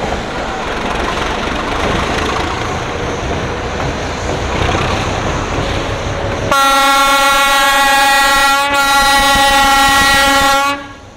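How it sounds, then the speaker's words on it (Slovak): A series 742 diesel locomotive with a six-cylinder engine rumbles loudly and steadily, then sounds a long, loud, rich horn blast lasting several seconds before it cuts off abruptly. "Lokomotív poháňa 6-valcový stojaný kabinovaný motor."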